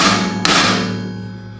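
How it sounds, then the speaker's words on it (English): A hammer strikes a metal punch once against a metal turf spray boom to start a drill hole, a single sharp metallic tap with a ringing decay that fades over the following second. "And I'm going to get that hole started right there with a punch."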